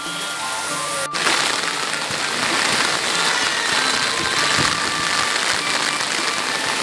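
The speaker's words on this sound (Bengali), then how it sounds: "দেখো কি জোরে বৃষ্টি পড়ছে" Heavy rain pours down at an Indian market, a dense steady hiss of drops drumming on surfaces that starts after a sharp click and continues loudly throughout.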